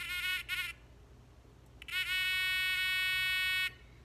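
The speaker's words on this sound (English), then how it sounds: "so if you listen, you'll hear my buzzer go." Buzzer on a simple battery circuit, powered by a 9-volt battery, sounding in two brief bursts and then one long sustained tone, harsh and buzzing, with quiet gaps between.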